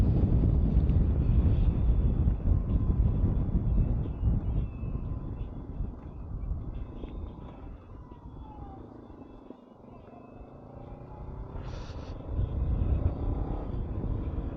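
A Honda CB500X motorcycle engine hums steadily at speed with heavy, continuous wind buffeting over the microphone on a February ride, easing briefly midway before swelling again.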